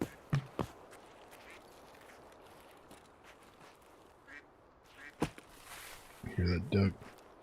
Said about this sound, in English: Hear that duck?